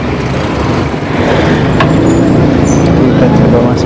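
A car or truck passes on a city street near the Keraton Surakarta in Solo, heard from a moving bicycle as a loud, steady road rumble with a brief hiss, alongside broadband wind and traffic noise.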